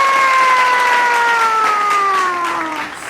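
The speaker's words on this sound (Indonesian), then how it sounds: "Kasih tepuk tangan meriah buat Tuhan Yesus." Cheering and applause at a youth church worship service, a loud steady crowd roar with bright sustained tones gliding slowly downward across it, tapering slightly near the end.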